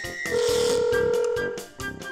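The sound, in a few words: telephone ringing on an unanswered call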